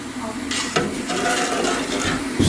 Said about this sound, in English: So when the solution is ready, with the jug, and just pour it into those and make sure the eggs are fully covered